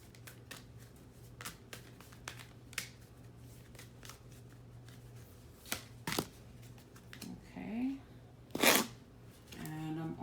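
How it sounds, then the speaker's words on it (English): Rune cards are shuffled and pulled in a quiet room, with soft riffles and slaps scattered through and a few louder snaps and rustles near the end. "I'm also going to pull a rune card for you guys."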